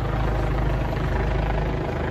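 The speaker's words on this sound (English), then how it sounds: "Yeah, that's gotta be the Flight for Life helicopter." A Flight for Life medical helicopter thumps overhead with a loud, steady low rotor chop and engine drone, sustained without pause as it passes near a building with helipads.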